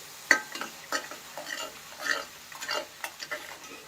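Cauliflower curry cooks in a pan while a spoon stirs it, giving a series of close, irregular scrapes and taps over a faint sizzle, with no talking.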